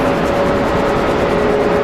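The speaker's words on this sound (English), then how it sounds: "it says Pratt & Whitney engines on that Neo. Very loud." An Airbus A320neo with Pratt & Whitney engines at Manchester Airport gives a loud, steady, close jet roar with a sustained whining tone running through it.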